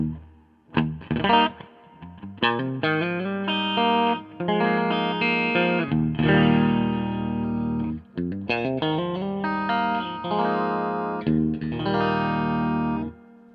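Distorted electric guitar chords played through a Hiwatt Crunch 150R amp head with reverb set about halfway, strummed phrases with notes ringing and trailing off between them, loud and close.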